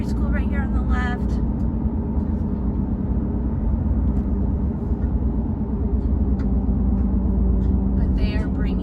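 A car drives along a suburban road past other cars, its low engine and tyre rumble steady and close from inside the cabin while a person talks over it.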